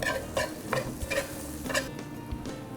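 Ingredients sauté gently in olive oil over low heat, a soft continuous sizzle broken by regular scraping strokes of a stirring utensil against the pan, close and alone.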